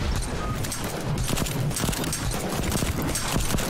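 Rapid bursts of gunfire crackle continuously in a dense, noisy zombie train game soundscape in Pandemic Express.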